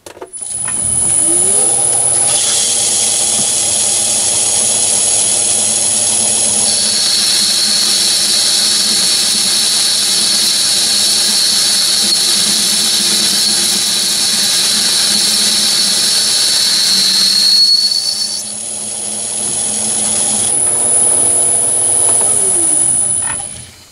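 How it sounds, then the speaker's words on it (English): Myford ML7 lathe running as it bores out a metal block, a loud steady motor whine with a high cutting tone that rises midway, holds, then drops away before the machine hums on alone. "when the bore's opened out enough like it is now, I change over to an insert tool to finish off"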